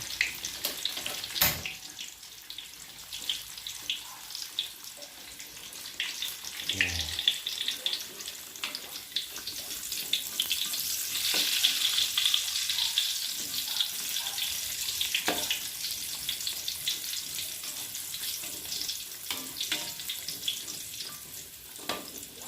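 Pempek kulit, fish-skin fishcakes, frying in oil over a low flame, giving a steady broadband hiss and crackle throughout with occasional louder pops and bubbling.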